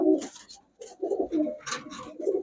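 Pigeons coo close by in a series of low throaty rolls, broken by short gaps, with a few higher flutters or squeaks mixed in between the calls.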